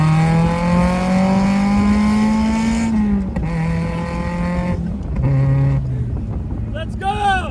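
A Mazda Miata swapped with a Ford Fusion 2.5L engine and a blast pipe exhaust drones loud and deep from inside the cabin, rising in pitch through a gear, dropping, then pulling again in successive revving bursts.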